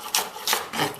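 Three quick knife chops through spring onions (scallions) on a wooden cutting board, each a short dry rasping stroke, close and clear with brief pauses between.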